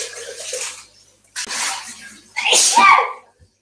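A sharp, loud sneeze bursts out near the end, following a stretch of running water and clattering kitchen sounds.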